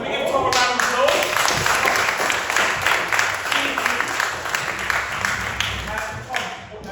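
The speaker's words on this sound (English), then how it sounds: "So can we give Tom a round of applause?" A small group gives a round of applause for a participant at a performance workshop, steady continuous clapping close by that holds at an even level for several seconds, with a little talk underneath.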